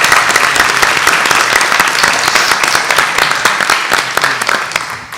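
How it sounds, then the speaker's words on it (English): School board meeting attendees give a loud, close round of applause, many sharp individual claps forming a steady burst that thins slightly as it ends. "Let's give Andy a round of applause."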